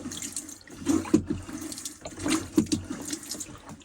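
Water runs from the tap of a water jug installed in a DIY Tacoma truck camper, coming in two short splashing bursts into a basin with quiet gaps between them.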